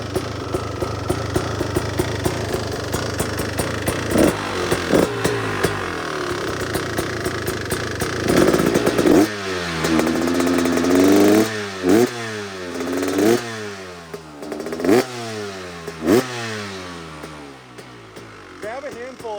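A 2026 Beta 350 RX two-stroke dirt bike idles loudly, then is blipped through several sharp rev bursts that climb and fall back, close up, with voices speaking over it.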